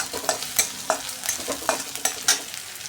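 Onion frying in hot oil with a pinch of asafoetida, stirred in a pan for a dhaba-style veg curry: a steady close sizzle broken by repeated scraping stir strokes at a regular rhythm, with no voices.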